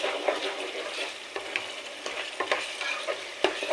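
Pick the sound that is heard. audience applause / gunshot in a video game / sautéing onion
sautéing onion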